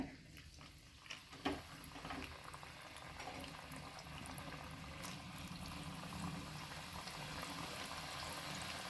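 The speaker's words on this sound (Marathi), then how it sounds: "चला तर आता आपण यामध्ये शंकरपाळी घालून घेऊया" Shankarpali pieces made from maida dough sizzle and bubble in oil over low heat, giving a steady, continuous frying hiss close by, with no speech.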